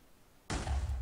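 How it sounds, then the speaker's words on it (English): A Minecraft explosion in the game bursts in suddenly after near silence, with a loud boom and a deep low rumble that continues to the end of the moment. "Yeah, explosions."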